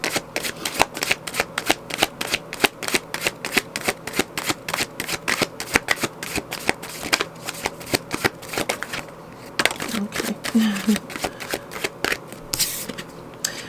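Tarot cards are shuffled in a fast, steady riffling rhythm of crisp, close flutters and snaps that runs almost without pause, with a brief softer stretch and a faint murmur of voice near the end.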